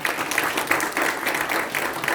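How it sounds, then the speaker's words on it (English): Applause from a dinner crowd at an interfaith Ramadan iftar, a steady wash of clapping that holds at an even level for a couple of seconds. "Big round of applause for that."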